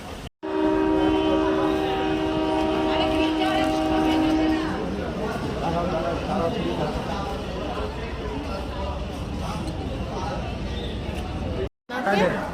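A local train horn blares loudly for several seconds at a railway station in West Bengal, followed by the rumble and clatter of the train moving along the platform with crowd noise around.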